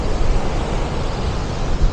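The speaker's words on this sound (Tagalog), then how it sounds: "So pag ganito kalalaking alon" Big surf rolling onto a beach at Sulok Beach Resort in General Nakar, a steady loud wash of breaking waves with wind rumble across the microphone and no talking.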